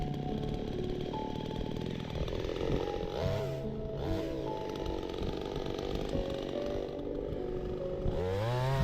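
A chainsaw cuts through dead apple tree trunks in an orchard, its engine whining steadily and pitching up and down as the chain bites into the wood. Close and loud throughout, with no voices.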